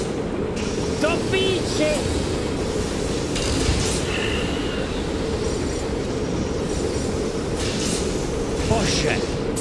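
A train powering up in the horror video game Poppy Playtime, a steady loud rumbling rail clatter with faint metallic squeals running the whole time beneath an excited voice.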